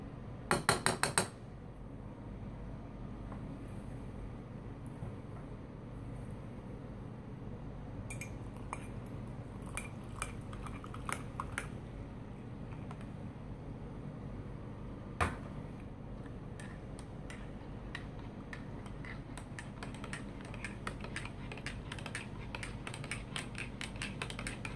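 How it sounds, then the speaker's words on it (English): A spoon stirs cocoa and lemon ration drink in a cup, giving faint, sporadic clinks and taps against a quiet background, with one sharper knock near the start and a few more scattered through. "I will go ahead and mix up the cocoa and the lemon drink"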